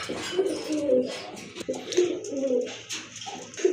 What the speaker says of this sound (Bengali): আরেক জোড়া কবুতর দেখেন খুবই সুন্দর অনেক ছড়ানো দমের কবুতর